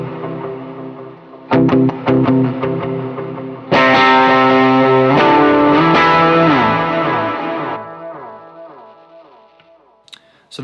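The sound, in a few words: electric guitar overdrive tone with delay and reverb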